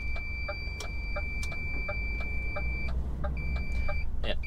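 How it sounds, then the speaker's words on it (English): A vehicle parking sensor beeps in a regular, rapid series of short tones over engine rumble, pausing briefly before resuming. "Stop beeping at me. I know there's a wall"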